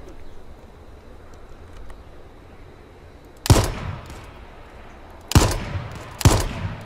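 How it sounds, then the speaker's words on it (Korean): Gunfire in the battle royale game H1Z1: three sharp, loud shots or short bursts ring out after a quiet stretch, spaced a second or two apart over faint ambient background. "총 쏜다"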